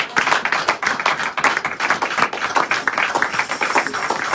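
A church congregation at a Sunday service claps in a steady, dense rhythm, with a few shouts of acclaim mixed in, loud and sustained throughout.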